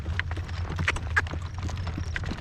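Horse hooves clip-clop at a steady walk on a ranch during blustery wind, close and distinct strikes over a low rumbling wind background, with no talking.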